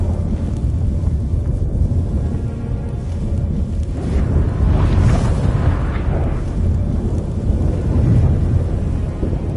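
A thunderstorm in The Witcher 3 rumbles with deep rolling thunder over steady rain and wind, loud and close, swelling in a heavier crash midway before settling back into a continuous roar.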